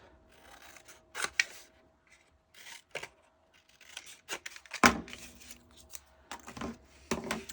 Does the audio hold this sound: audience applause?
no